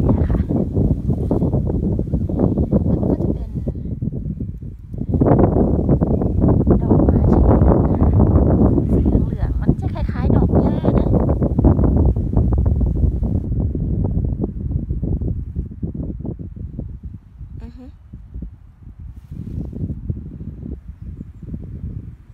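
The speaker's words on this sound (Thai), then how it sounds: "ลมมันจะแรงมากลมมันโชยมาทางนี้" Strong wind gusts buffet the microphone outdoors near a lake, a loud, steady roar with rustling that swells and eases over time, while someone talks throughout.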